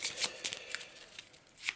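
A short, quiet riffle of Arkham Horror cards shuffled back into the deck, with soft papery flicks over a couple of seconds.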